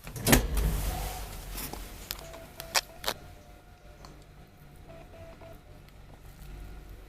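An old Kone traction elevator in Ruorimiehenkatu 3D, Espoonlahti, Espoo, runs with a low mechanical hum, a thump at the start and a few clicks and clunks, then settles into a steady quiet drone.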